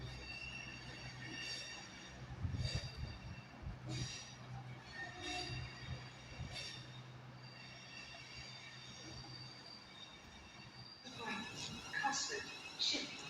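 A London Northwestern train rumbles at a distance near Wolverhampton, a steady low roll with faint wheel squeal and a brighter metallic rise near the end, while someone talks intermittently over it.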